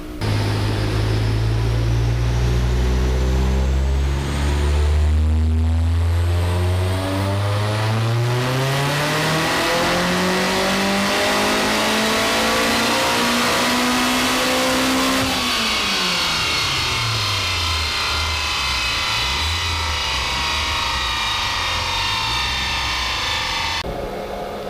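A race car engine revs on a dyno under a 2021 race map tune, loud and continuous, its pitch climbing steadily through the run, then dropping sharply near the end before settling into a lower drone.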